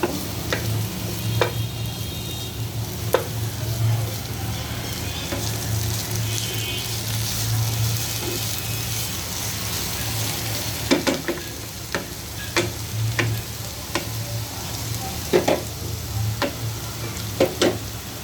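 Pointed gourd peels and shrimp fry over medium-low heat in a pan, a steady soft sizzle with a low hum beneath and scattered sharp clicks and scrapes of stirring that grow more frequent later on.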